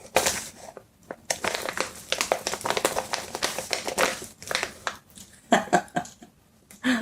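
Crinkly tearing and crumpling of a powdered oat milk package, a series of sharp rips and rustles in bursts with brief pauses, close and fairly quiet.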